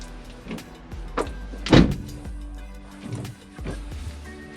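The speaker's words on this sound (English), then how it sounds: "Okay, I can close that front door again." The front door of a Toyota 70 Series Troopy camper swings shut with one solid, close thump partway through, among smaller handling clicks and rustles.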